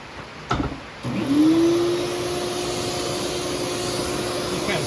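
A vacuum cleaner sucking gunk out of an old 1940s Allis Chalmers tractor switches on with a rising whine, then runs as a steady, close drone.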